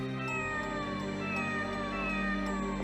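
A cat meows in the Tales of Destiny role-playing video game, a steady game-audio tone with sustained musical layers and a continuous meowing cry, with no talking over it.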